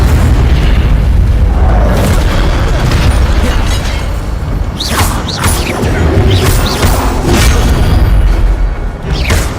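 The Incendio fire spell is cast in Hogwarts Legacy, a loud, heavy fiery burst with booming, crackling blasts that roll on continuously and swell in several sharp flares toward the middle and end.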